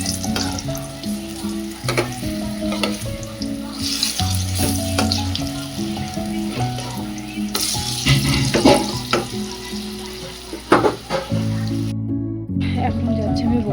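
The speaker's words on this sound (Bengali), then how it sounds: "এখন লাস্টের দিকে খাওয়ার আগে বেগুনিটা করছে" Battered eggplant fritters (beguni) fry in hot oil, sizzling steadily up close, with stirring clatter and occasional bangs under a running voice.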